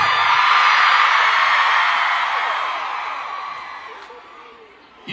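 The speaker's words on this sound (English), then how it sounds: "it's a fucking loud crowd in there tonight" A concert crowd at a show in Cincinnati roars and whoops loudly, a broad wash of cheering that slowly fades over several seconds before a sudden swell at the end.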